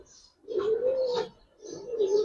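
Pigeons cooing close by, two soft, low throaty coos in succession with a short pause between them and no talking.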